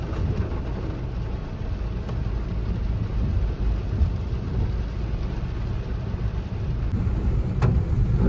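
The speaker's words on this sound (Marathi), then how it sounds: "जोराचा पाऊस चालू आहे आता" Heavy rain pours in a steady, dense hiss that stays unbroken and fairly loud from start to finish, with a faint low rumble underneath.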